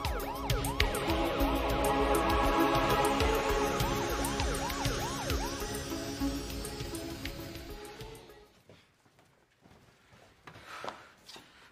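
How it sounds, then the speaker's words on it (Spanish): A wailing emergency siren sweeps up and down loudly for several seconds over steady rumbling traffic, then cuts off, leaving quiet background noise. "Tú y Gabriel váyanse con la niña en la ambulancia."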